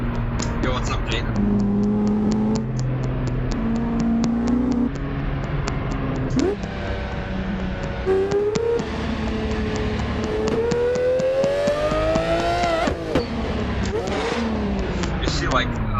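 Game car engine from Assetto Corsa running a buggy sound mod, with harmonics sweeping up and down through repeated downshifts and revs over 16 seconds, loud and continuous, while someone talks over it.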